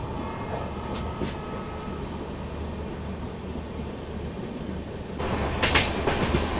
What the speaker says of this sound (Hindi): आठ कोच वाली वंदे भारत है।